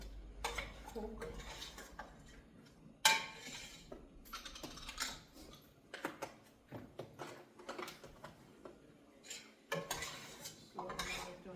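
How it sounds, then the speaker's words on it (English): A spoon repeatedly knocks and clinks against a pan of seasoned meat cooking on the stove, making sharp, irregular metallic taps, some louder than others, over a quiet background. "I just have a habit of hitting my pan"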